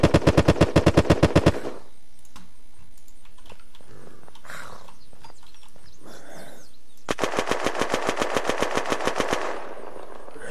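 ZUBEKNAKOV automatic rifle in Unturned firing rapid bursts, a loud rhythmic string of shots at the start, a quiet gap with faint clicks, then a second sustained burst of evenly spaced gunfire.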